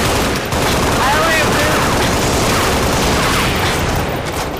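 Dense, continuous video game gunfire with rapid automatic bursts filling the whole stretch, loud and close, with faint voices beneath.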